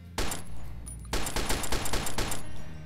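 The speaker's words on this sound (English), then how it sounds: "Here's the first person view of the weapon, and this is how it fires." Tikhar semi-automatic rifle in a Fallout New Vegas mod fires one sharp shot, then after a short pause a rapid string of loud, evenly spaced shots rings out up close.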